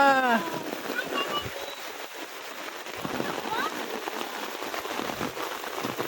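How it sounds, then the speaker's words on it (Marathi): Steady rain patters on surfaces around a group of people chatting outdoors, a continuous hiss under their voices. "पाऊस आला."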